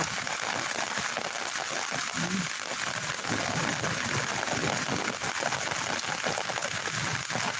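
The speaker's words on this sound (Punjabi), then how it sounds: "ਪੂਰਾ ਮੀਂਹ ਆ" Heavy rain pours down in a steady, dense roar across an open outdoor space, a continuous wash of loud patter with faint voices now and then underneath.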